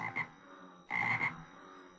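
Frogs croak twice in the RLCraft Minecraft game, a short croak followed by a longer, louder one, clear and close against quiet with no talk.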